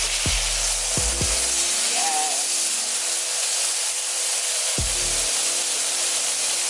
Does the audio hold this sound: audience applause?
no